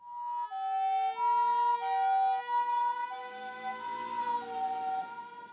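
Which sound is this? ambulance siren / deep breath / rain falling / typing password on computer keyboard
ambulance siren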